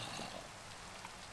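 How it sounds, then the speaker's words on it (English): Rain falling in the Minecraft video game, a soft, even hiss of many drops, faint and continuous with no voices over it. "Gosh, and now it's raining."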